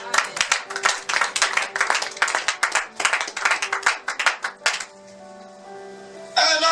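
A congregation claps in fast, steady, loud bursts of applause to acclaim the Lord at a church service, then stops abruptly into a quiet hum before a brief final swell.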